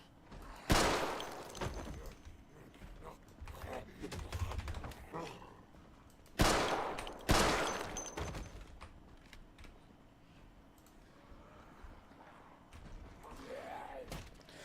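Pistol shots in the zombie survival video game Project Zomboid, a few sharp loud cracks spaced seconds apart, with clicks and quieter game noises between them.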